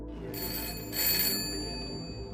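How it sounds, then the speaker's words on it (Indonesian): A telephone rings in a bar, a steady electronic ringing tone with a brighter swell partway through, heard over low background hum and no talk. "si bartender mendapat telepon dari seseorang yang ingin menanyakan sesuatu kepadanya"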